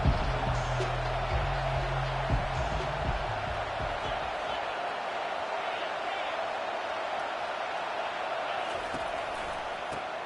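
A packed stadium crowd at a Notre Dame vs Ohio State football game roars in a steady, unbroken wash of noise, with a voice talking over it near the start.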